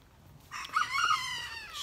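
A rooster lets out one drawn-out crow lasting over a second, fairly close, against a faint low background hum.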